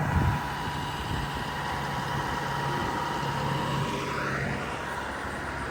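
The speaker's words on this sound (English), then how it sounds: "So this is our baling tractor." Baling tractor engine idling steadily on a hay farm, a continuous low rumble with a faint pitch shift near the end, heard close and without talk.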